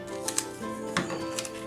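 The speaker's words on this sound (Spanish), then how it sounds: "con el cúter corto justito a la esquina" A craft knife slices through paper right up to a corner during scrapbooking, giving a few short, crisp scraping cuts close by with no talking.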